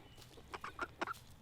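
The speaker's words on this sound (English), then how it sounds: "So here are the chickens," A few soft, short clucks from chickens, faint and a little distant, in a quiet outdoor setting.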